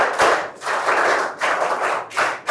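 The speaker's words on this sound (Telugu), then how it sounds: "గట్టిగా చప్పట్లు కొట్టి అభినందించండి" Audience clapping in congratulation for a quiz prize winner, a dense round of applause that swells in several bursts, close and loud, with no talk.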